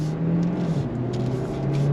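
A 2025 Kia Sportage plug-in hybrid with a 1.6-litre engine and electric motor accelerating on throttle, heard from inside as a steady, loud engine drone with a rising hum, no talk over it.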